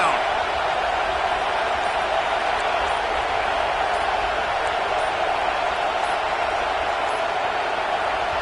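Loud, steady roar of a home crowd packed into a college football stadium on third down against the Michigan defense, a dense wall of cheering that holds without letup throughout.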